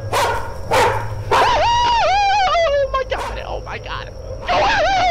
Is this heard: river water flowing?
no